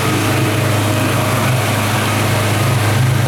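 An outboard motor on a houseboat runs steadily, a loud, even droning buzz with a low rumble underneath and no pauses.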